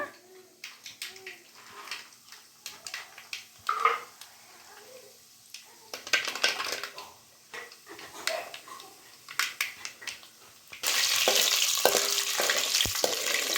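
Chana dal, urad dal and cashews fry in a pan for shavige upma, with intermittent crackles and stirring clatter that swell into a loud, continuous sizzle near the end.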